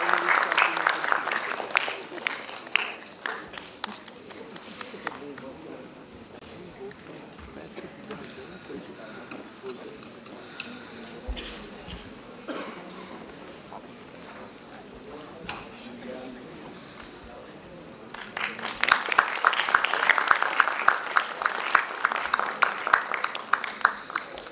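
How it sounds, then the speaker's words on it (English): Applause for two semi-finalists at a Constitution Day event, with steady crowd clapping of moderate loudness that swells louder near the end, under a voice on a microphone. "Please have a round of applause for our both semi-finalists."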